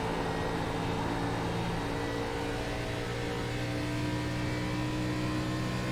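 A race car in a racing game getting back on the power, a steady loud engine drone with droning harmonics held throughout, close and continuous, no talking.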